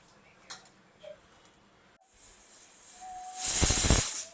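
A pressure cooker holding raw moong dal with tomato builds to a sharp, loud hissing whistle near the end after a quiet stretch of faint ticks and a rising steam hiss.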